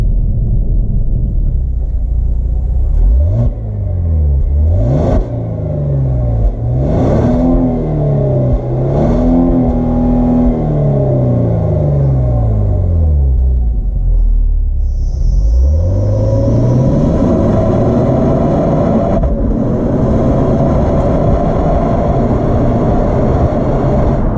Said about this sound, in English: here's 20 seconds of exhaust sound of the Kia Stinger V6